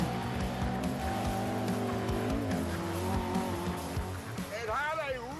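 A Mark 1 Lotus Cortina's twin-cam 1.6-litre engine revs hard and buzzy nearby while racing at Cadwell Park, pitch rising and falling through gear changes, with a brief squeal near the end.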